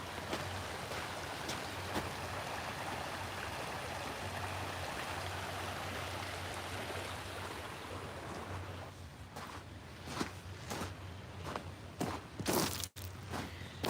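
Water flowing along the bank of Little Beaver Creek in a state park in November, a steady broadband rush close by. Near the end it is broken by a few sharp crunches like footsteps.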